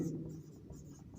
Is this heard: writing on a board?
yes